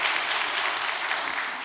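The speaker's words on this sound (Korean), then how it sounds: "정성을 모아주신 식구님들을 위해서 박수를 한번 보내겠습니다" Steady applause from a church congregation honoring members' devoted offerings, a dense even patter of many hands sustained throughout at moderate level.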